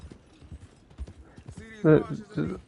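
Horse hooves clip-clop at a steady rhythm in the Red Dead Online video game, fairly close, while someone talks over them and his voice grows louder toward the end.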